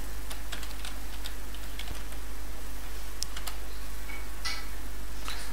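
Rapid clicking of computer keyboard keys as Flutter code is typed, an irregular patter of light taps with a few louder strokes, steady and close over faint background hiss, with no voices.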